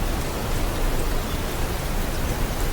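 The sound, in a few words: rain falling at night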